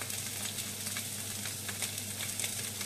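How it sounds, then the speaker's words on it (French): Onions tossed into a pan with bacon lardons fry with a soft, steady crackle, broken by light stirring scrapes. The sound is faint but continuous, with no voices. "je vais jeter mes oignons dedans. Tac. Et on va mélanger tout ça"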